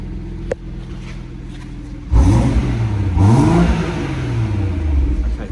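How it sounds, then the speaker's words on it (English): A BMW M140i Shadow Edition's straight-six engine idles with a low hum, then revs hard with rising and falling deep rumbling sweeps, loud and close. "the lovely sound of the straight six engine there."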